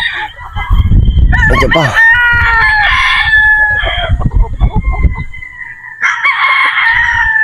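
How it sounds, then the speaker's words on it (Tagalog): Boston Roundhead brood stag roosters crow loudly and close, with long rising and sustained calls, some clucking and a brief spoken phrase in between. "Yung ating brood stag na Boston Roundhead."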